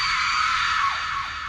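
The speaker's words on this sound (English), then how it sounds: "You hear a horrifying scream." A horrifying scream sound effect for an incorporeal being sucked into the earth: a loud, shrill, sustained cry that slides downward in pitch and fades over about a second and a half, with no talking.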